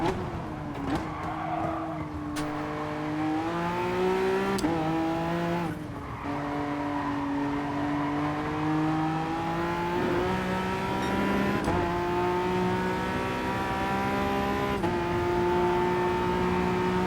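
Peugeot race car in Gran Turismo Sport, its engine droning steadily at high revs for the whole stretch, pitch rising and dipping through gear changes with brief tire squeal; no talk.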